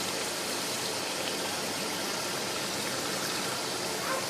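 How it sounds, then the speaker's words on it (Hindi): Water pours steadily into a pot of pasanday meat, a broad, even rushing hiss that holds at a moderate level without pauses. "और इसमें हम डालेंगे थोड़ा सा पानी"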